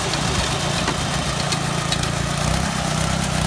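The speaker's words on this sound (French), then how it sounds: "Avec sa machine bizarre, qui ressemble un peu à une tondeuse à gazon," A small beach sand-cleaning machine with an engine much like a lawn mower runs at a steady idle, a continuous droning rumble that stays loud and close throughout with no voices.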